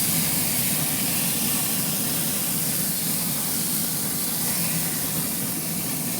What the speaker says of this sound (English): Got a lot of sizzle going on there.